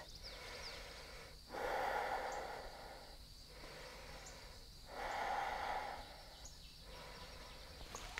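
Slow deliberate yoga breathing during a held pose, two long loud breaths with quieter pauses between, close and clear with no talking.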